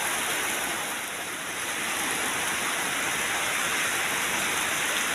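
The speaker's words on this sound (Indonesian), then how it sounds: "berhubung hari hujan" Steady rain pouring onto a pond at a mosque construction site, a dense, even hiss of drops that stays loud and unbroken throughout with no voices.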